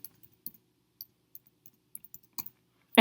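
Scattered, sparse clicks of keys being typed on a computer keyboard, soft and close, ending in a sudden louder bump.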